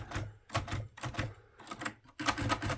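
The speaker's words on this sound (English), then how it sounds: "I wonder if the keys are free." Keys on a 1950s portable typewriter are pressed in quick bursts of sharp mechanical clacks, with short pauses between groups. The sound is close and fairly quiet, with no speech.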